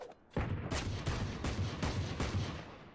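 A Desert Eagle pistol fires in a video game match. About six sharp, evenly spaced shots ring out in quick succession, fairly quiet, with a short tail after each.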